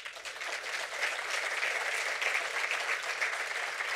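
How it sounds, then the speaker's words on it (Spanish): Sustained applause from an audience at a wine award ceremony, steady and dense clapping throughout without a break. "Un fuerte aplauso."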